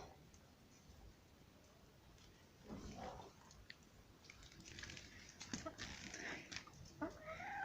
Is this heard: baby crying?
no